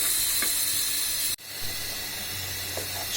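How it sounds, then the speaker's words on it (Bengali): Beef with salt and turmeric fries in mustard oil, a loud steady sizzling hiss that cuts out abruptly midway, then resumes more softly with a few stirring knocks. "এবার এটা ব্রাউন কালার হওয়া পর্যন্ত আমরা ভাজতে থাকব"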